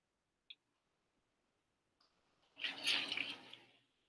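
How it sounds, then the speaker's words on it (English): Liquid supernatant pouring out of a lab tube during a plasmid miniprep, a soft close splash and trickle lasting about a second and a half after a brief click, with no talking. "I'm pouring all of the supernatant."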